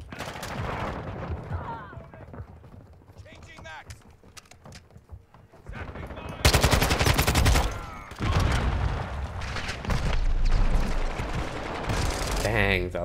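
Light machine gun fire in Modern Warfare 2 third-person mode, sustained bursts of rapid gunshots growing louder partway through, with game effects and a voice talking over parts of it.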